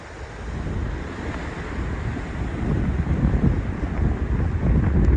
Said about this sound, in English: So right here, it's just like a wind tunnel